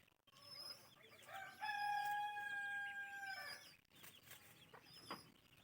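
A rooster crows loudly nearby in one long call, while hens cluck in a backyard poultry area. A few short sharp calls follow.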